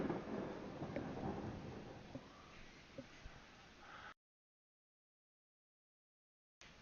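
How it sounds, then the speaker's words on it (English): Thunder rolling from a storm, a faint, distant broadband rumble that swells and fades for about four seconds, then cuts to silence before a brief return. "Did you all hear that thunder?"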